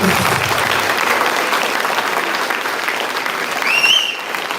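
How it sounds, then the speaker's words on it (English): Audience applause fills a large gathering after a stage performance at Kripotsava 2023, dense continuous clapping at steady loudness from start to finish, with a brief high whistle near the end. "let us give them a big applause"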